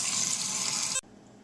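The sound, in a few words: rinsing beans under running tap water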